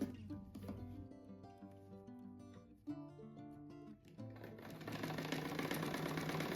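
Sewing machine stitching the seams of a patchwork rug, a steady mechanical whir with music playing over it that swells louder toward the end.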